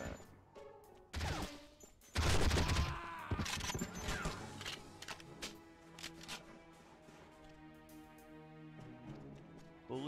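Gunfire in the video game James Bond 007: Nightfire, a loud burst of rapid shots and crashing impacts near the start, followed by a layered game soundtrack and ambient effects for the rest.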